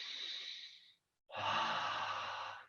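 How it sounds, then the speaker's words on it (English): Two audible mouth exhales during a yoga core exercise, the first a softer breathy sigh lasting about a second, then a short pause and a louder, fuller exhale with a voiced, sighing quality, close and alone. "I'm just doing that so you can hear the exhale"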